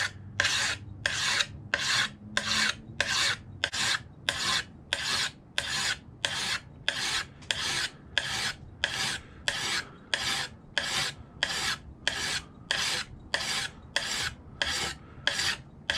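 A hand file scrapes along the blade of a horseshoe knife in steady, even strokes, roughly a score of rasping passes in regular rhythm, close and clear with no talk.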